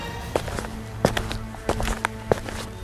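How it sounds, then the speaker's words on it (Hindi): Footsteps creep across a room at night, four soft but distinct steps spaced evenly and close by, each one standing out against a quiet low hum. "अचानक ही उसे अपने कमरे में आहट सुनाई देती है।"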